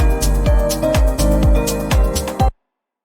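A dry music mix with synths and a thumping kick beat plays loudly and briefly, without the Analog Obsession ReLife plugin applied, then cuts off abruptly into silence.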